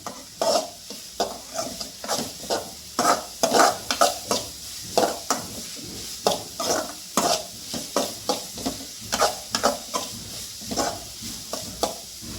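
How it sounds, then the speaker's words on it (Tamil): Onions sautéing in oil in a pan for village-style Koduva fish thokku, stirred in a steady series of scraping strokes over a continuous sizzle, close and fairly loud. "கொஞ்சம் இப்போ அடுப்பை வந்து கொஞ்சம் பெருசு பண்ணிக்கலாம். வெங்காயம் வதங்கணும்."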